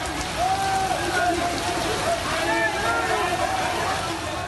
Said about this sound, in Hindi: जयपुर में भारी बारिश से कोहराम मचा हुआ है।